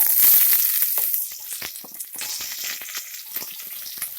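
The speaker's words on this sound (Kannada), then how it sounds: "ಸಾಸಿವೆ ಜೀರಿಗೆ ಚಟಪಟ ಅಂದಿದೆ" Mustard seeds and cumin crackle and pop in hot oil, then onion goes into the pan for a vangibath sambar. The sizzle is loud and dense at first, then settles into a steady frying hiss with scattered pops, with no voices.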